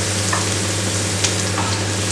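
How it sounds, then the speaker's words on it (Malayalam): Cabbage sizzles steadily in hot oil in a pan for cabbage rice, a dense continuous frying hiss with faint stirring scrapes, close and alone without talk. "ഇനി നമുക്ക് ക്യാബേജ് ഇട്ട് കൊടുക്കാം."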